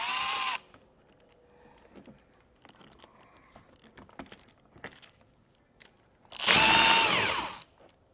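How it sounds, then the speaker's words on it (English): A power drill on 8 mm screws in the inner fender well of a 2021 Jeep Grand Cherokee gives two short, loud whirring bursts, one at the start and one near the end, with quiet clicks and handling noises in between. "we're going to have 5 screws in here we're going to need to remove, and these are going to be 8 millimeter"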